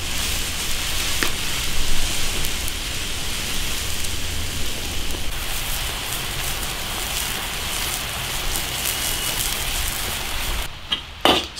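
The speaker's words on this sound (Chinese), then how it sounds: "下雨了，肚子也饿了，" Heavy rain pours steadily outdoors at a rural cooking spot, a loud dense hiss of drops on surfaces that continues unbroken and stops abruptly near the end.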